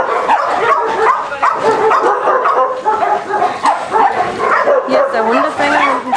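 A constant din of barking, yipping and whining dogs fills crowded shelter kennels, loud and close, with a voice speaking beneath the noise.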